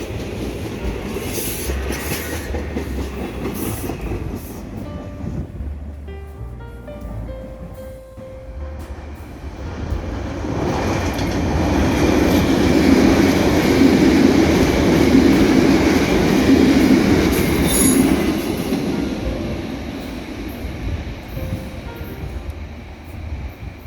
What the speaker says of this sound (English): This Sunday afternoon Norristown-bound train is comprised of Silverliner 5 cars